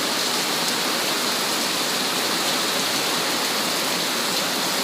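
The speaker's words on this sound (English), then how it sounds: "There's a big storm going on." Heavy rain pours down during a storm, a dense, constant roaring wash of noise with no breaks and no voices.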